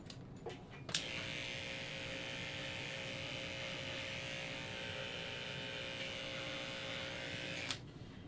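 Electric clippers buzz steadily while shaving a dog's paw pad during grooming, a close, even drone that switches on and runs about seven seconds before cutting off.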